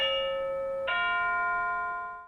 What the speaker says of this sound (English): install this wireless doorbell extender so that your doorbell can go from sounding like this